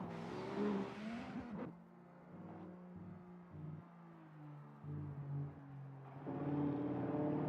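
Drift race cars at the IVDC round launching off the start line, engines rising from a low idle rumble to loud revving, fading briefly before surging again near the end.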